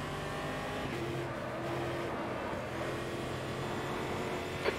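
AMSU stock cars, including a Spirit Chevrolet, racing at Melbourne: a steady, sustained engine drone from several cars circulating at a distance, with no clear pass-by peak and no talk.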